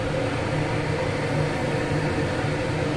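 Vegetable chops dropped into hot oil sizzle with a steady, dense frying hiss that holds an even level throughout with no pauses.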